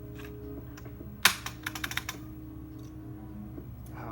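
Keys typed on a Model F F62 Kishsaver reproduction keyboard: a sharp opening strike, then a quick burst of five or six crisp, close clacks, followed by a few isolated keypresses against a quiet room.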